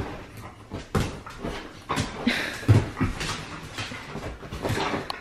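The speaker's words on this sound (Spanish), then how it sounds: "se andan peleando estos perritos" Small dogs scuffle and fight indoors, giving close, uneven whimpers, yips and short growling bursts with shuffling between, moderately loud and with no talking.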